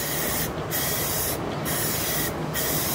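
White gloss Rust-Oleum spray paint hissing from a can onto a canvas in a loud, close, continuous spray, with three brief dips as the nozzle is released between passes.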